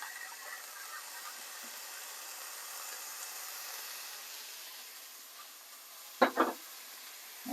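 Mushrooms frying in a pan, a faint steady sizzle and hiss that runs throughout, with a couple of sharp utensil clacks near the end.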